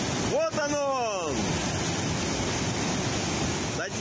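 Flood water rushing in a steady, dense roar after a tropical downpour in Sochi, filling the whole stretch loud and continuous, with a voice briefly calling out over it near the start.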